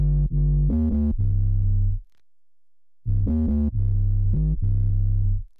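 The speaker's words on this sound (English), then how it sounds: "Now this 808 came from the loop library, so it already has slides and everything on it" 808 bass from the Soundtrap loop library with built-in slides: loud, distorted booming notes gliding in pitch, two bursts separated by a one-second gap.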